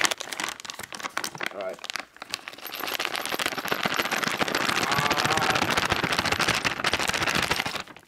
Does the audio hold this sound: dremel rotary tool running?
no